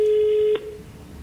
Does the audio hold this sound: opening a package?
no